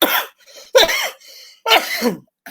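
Three loud, close coughs in quick succession, each a harsh burst with brief pauses between them.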